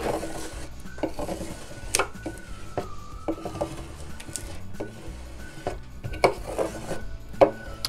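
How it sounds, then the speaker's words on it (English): Plastic scraper rubbing and pressing a removable vinyl stencil down onto a painted wood sign, a steady close scratchy rasping with short repeated strokes and a few sharper scrapes. "gonna take your scraper and get it on there really well"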